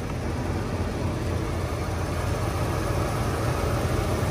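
The engine of a 1995 Ford Econoline 250 4x4 camper van with 52,000 original miles runs steadily, a dense, even low rumble with a continuous hiss on top, unchanging and without voices.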